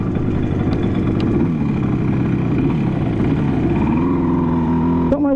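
A 1974 Yamaha RD 350 two-stroke motorcycle engine idles close by after an idle adjustment, a loud steady low burble that lifts slightly in pitch near the end before a brief sharp click.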